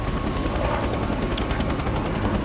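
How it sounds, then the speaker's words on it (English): Helicopter rotor and engine roar from Rise of the Tomb Raider, a loud steady whirring drone that fills the whole stretch with no voices over it. "on the helicopter"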